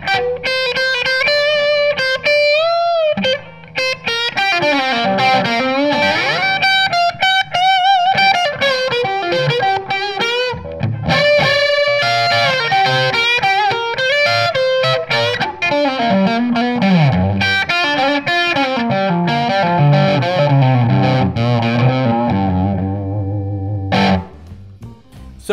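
Electric guitar through a saturated Marshall amp in a classic blues tone, loud distorted blues lead lines with bends and sustained notes, played alone for the whole stretch.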